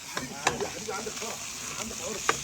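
Camel liver fries in hot oil at an outdoor rest-house gathering, with a constant crackling sizzle and bright spatter pops and utensil clicks breaking through at intervals.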